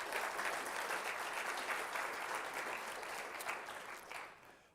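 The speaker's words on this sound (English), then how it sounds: "Let's give him another round of applause." An audience applauds after a speaker introduces an ambassador at an event on Africa. The clapping is steady and dense, comes from a moderate distance, and fades slightly toward the end.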